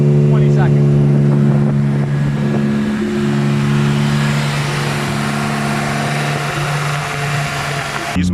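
A BMW E46 M3 engine held steady at about 3,000 RPM, a loud, even, close-up drone with strong humming tones throughout, with no change in pitch; voices are faintly present beneath it.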